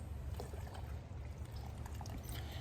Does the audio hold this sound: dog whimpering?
no